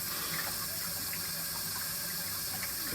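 Steady, even rush of water from an opened hot water faucet inside a house while a water heater fills. The sound is continuous and fairly quiet, with no voices.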